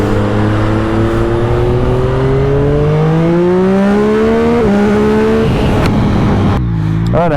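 A 2021 Yamaha MT-09 motorcycle engine accelerating hard and loud, its pitch rising through a couple of gear shifts before cutting off abruptly near the end, heard close up.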